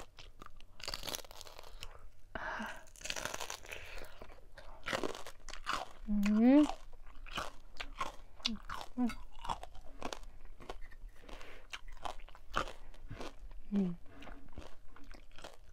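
Crispy German pork knuckle crunched while eating, with repeated sharp bites and chewing crunches spread throughout, close and loud, alongside chewing noises and a few short vocal sounds.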